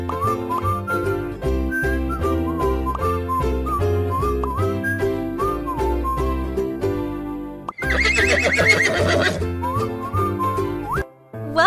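In a horse-care video game, a horse whinnies in a loud, shaky burst partway through, set against continuous cheerful background music and whistle-like tones.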